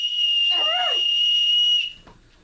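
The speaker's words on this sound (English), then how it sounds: "it's a blowy thingy with a whistle." A handheld toy whistle is blown in one steady, shrill tone lasting nearly two seconds before stopping abruptly, with a brief warbling flutter partway through and quiet room noise after it ends.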